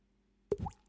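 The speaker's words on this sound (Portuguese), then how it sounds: "Que é som de gotas de água, pingas." A single water drop plops into water, close and clear, followed by a brief trickling splash in an otherwise quiet room.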